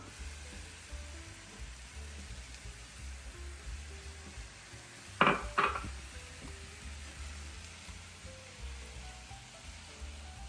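Apples added to a pan of melted butter and sugar: a soft background sizzle, then two sharp, close bursts of clatter and hiss as they go in, fading back to a gentle fry.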